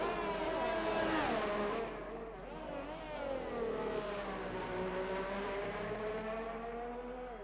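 Race cars in a PS4 Formula racing game roar past slower lapped AI cars, several high engine notes rising and falling as they overtake, loud and close and continuous.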